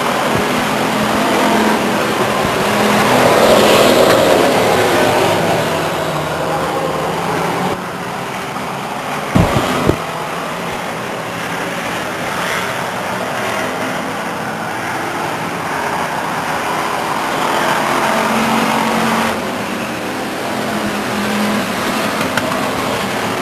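Race cars circling the Stockton 99 Speedway oval in 1999: loud, continuous engine roar swells and fades as cars pass, with one sharp knock partway through.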